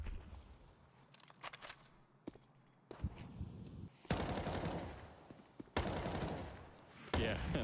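Counter-Strike 2 gunfire in a pro match between Astralis and NIP: sharp single shots at first, then two loud bursts of rapid automatic fire separated by brief pauses, with a commentator talking underneath at times.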